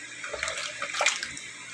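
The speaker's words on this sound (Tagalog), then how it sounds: "At nilagyan ko rin po pala ng isang tasang tubig po para pangluto doon sa gulay." A cup of water poured into sautéed pinakbet vegetables with bagoong and pork, a short soft splashing pour, fairly quiet and close.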